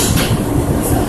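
An R160 Q subway train on New York's Brighton local line runs with a steady rushing roar and rhythmic rail clatter, loud and close, heard from inside the car.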